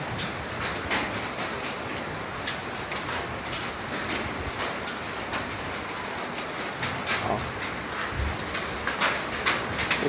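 Ash and small stones from the erupting Taal volcano patter onto a roof in January 2020, a dense, continuous crackling rain of small ticks and taps, steady and moderately loud throughout.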